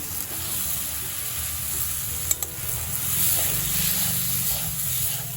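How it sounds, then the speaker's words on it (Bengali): Frozen green peas sautéing with spices in a pan for a Bengali chhanar borar dalna, giving a steady close sizzle with stirring scrapes, a couple of sharp utensil taps midway, and no voices. "মটরশুঁটিগুলোও কষিয়ে নিয়েছি।"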